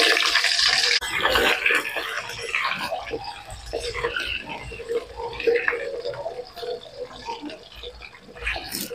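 Potatoes go into hot oil in a pan with a bright hiss of frying that is loudest at first and then settles into a steady sizzle, while someone talks over it.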